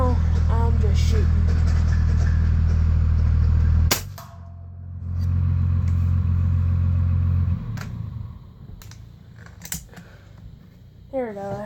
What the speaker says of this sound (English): He's got this big old Dodge diesel. Noisy thing.